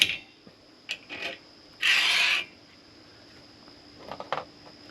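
Channel nuts are pushed and slid into an aluminum extrusion for overland awning brackets, with short scraping rubs and a louder gritty slide in the middle, then a few faint clicks.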